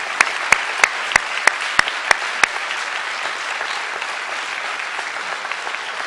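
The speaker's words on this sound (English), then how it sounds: "Let's give them all one more round of applause." An audience at a school assembly applauds in a dense, steady wash of clapping, with several sharp, louder individual claps standing out in an even rhythm during the first half.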